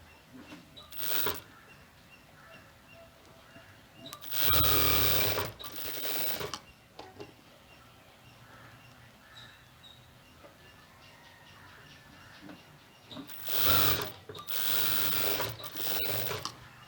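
A sewing machine stitches the front and back pieces of a pa neck design blouse together, running in short clear bursts: one brief run, two longer ones near the middle and a sustained run near the end, with quiet handling between.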